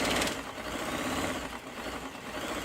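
Brother Prestige 20 sewing machine running at normal speed after motor replacement, cleaning and adjustment: a steady, close, continuous whirring hum with a fast mechanical rattle throughout.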